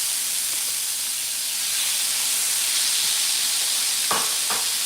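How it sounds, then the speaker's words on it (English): Fresh corn kernels sear in a hot pan with a steady, broad sizzle and hiss throughout, close and even, with two brief sharper crackles near the end. "We're gonna let this kind of sear up for just a second."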